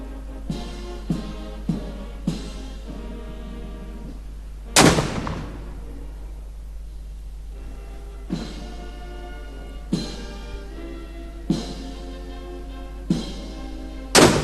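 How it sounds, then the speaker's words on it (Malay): Ceremonial cannon fire of a 21-gun salute at a state welcome ceremony at Istana Nurul Iman in Brunei: a series of booming shots at regular intervals, some much louder, echoing over a steady low hum. "diiringi dengan lagu kebangsaan serta 21 das tembakan"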